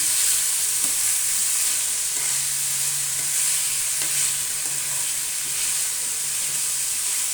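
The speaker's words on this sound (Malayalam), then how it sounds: "ഇഞ്ചി, വെളുത്തുള്ളിയും പച്ചമുളകും ഇട്ട് അതിനെ നല്ലതുപോലെ ഇളക്കി" Green chili, garlic and ginger frying in a pan while being stirred, with a constant loud sizzling hiss and a few faint scraping touches throughout, without talking.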